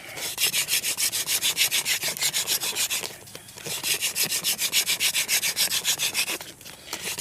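Steady rhythmic wooden rubbing of a hand drill spindle spun on a wooden board to start a fire, a fast back-and-forth friction rasp that runs continuously with two brief pauses, close and moderately loud.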